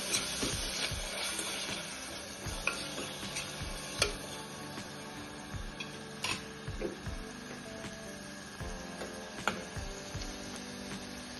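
A spoon stirs Maggi masala, red chilli powder and turmeric in a pan while cooking vatana bhat, giving soft scraping with scattered light clinks over a faint steady hiss, close and quiet.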